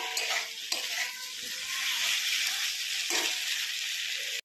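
Prawns and potatoes for a Bengali prawn curry sizzle and hiss as they are stirred in a hot pan, a steady close frying crackle with a few scrapes of the spoon.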